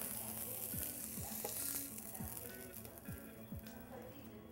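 Pork browns in a pot for a slow cooker cassoulet, giving a steady broadband sizzle with a few scraping stirs and faint clinks over a low hum, fairly quiet and close.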